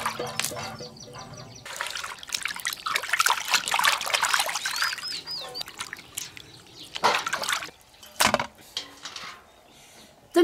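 Water trickles and splashes in uneven bursts as pig tongue and pig heart are rinsed in a kitchen, with a few knocks and clatters between pours.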